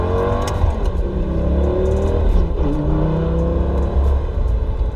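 A Lamborghini engine revs steadily and loudly on a test drive, a continuous deep droning roar with rising tones and some clatter, no talking.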